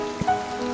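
Heavy rain shower pattering steadily on a waterproof camera casing during a hill walk in the Cheviots, a brief close, even hiss with one soft nearby tap.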